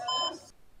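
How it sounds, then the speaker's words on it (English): An HP desktop computer sounds a single brief electronic beep as part of a memory-failure error code, clear and close, then quickly dies away into silence. "three long beep sounds, and then two short"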